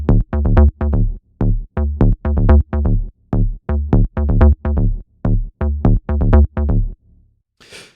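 SH-101 style bass from the Repro 1 synth playing a staccato pattern of short, punchy plucked notes in a bouncy repeating rhythm, loud and dry, ending with a brief pause and a faint tail.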